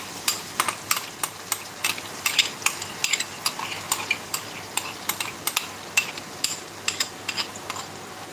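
A spatula scrapes and taps rhythmically against a pan while onion, ginger and garlic paste is sautéed over low to medium gas, sharp clinks repeating roughly every half second over a faint sizzle.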